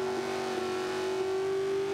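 A video game car engine, a 1995 Ford Mustang in Forza 5 with upgraded camshafts, drones at a steady high pitch, holding its revs with a smooth, continuous whine.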